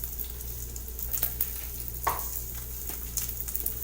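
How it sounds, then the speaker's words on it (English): An egg and a burger patty fry on a hot griddle, giving a steady, close sizzle with a few soft scraping taps from a spatula and no talk. "I'm going to flip the egg. And then this burger goes right on top of all of that."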